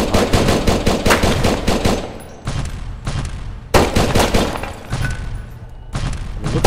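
Rapid machine gun bursts in the survival shooter game Next Day Survival, loud and close, firing in long rattling strings separated by brief pauses.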